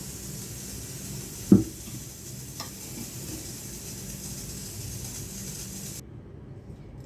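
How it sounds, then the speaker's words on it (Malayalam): Mustard seeds fry in hot oil for a chutney tempering, giving a steady, even sizzle with a single sharp knock early on before the sound cuts off near the end. "ഇനി നമുക്ക് കടു വറുത്തെടുത്താൽ മതി"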